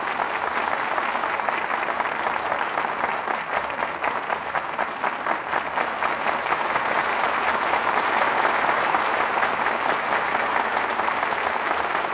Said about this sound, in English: Well-deserved applause for our stars